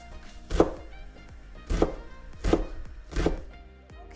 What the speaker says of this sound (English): once you have all the onion cut up in long ways, you're gonna cut them